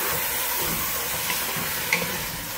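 Onions frying in a pot for beef biryani are stirred, producing a continuous loud sizzle with soft scraping from the spoon and a couple of brief clinks, with no one talking.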